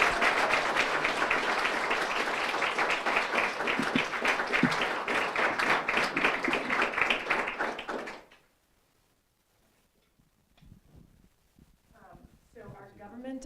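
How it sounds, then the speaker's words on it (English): An annual meeting audience applauds loudly and steadily for about eight seconds. Then the applause cuts off into near silence, and faint voices follow. "give a loud applause"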